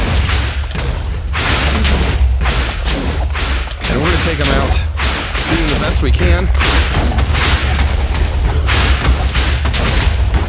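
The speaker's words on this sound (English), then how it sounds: "It looks like the explosions are being reduced." Repeated booming explosions in a Minecraft Wither boss fight in the Botania modpack, a rapid string of heavy blasts and thuds going off one after another while someone talks over them.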